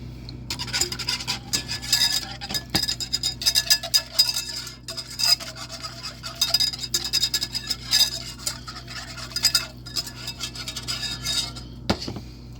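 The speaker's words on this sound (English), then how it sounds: "And whisk that in." A whisk scrapes and clinks steadily against a metal pot as beef stock is stirred into a simple gravy for meatloaf, with quick, irregular metallic taps throughout and no voices.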